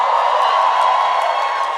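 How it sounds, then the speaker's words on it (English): An audience answers a speaker's call with a steady roar of cheering and whooping. The crowd noise is loud and sustained with no clear words. "Make some noise if you are a procrastinator."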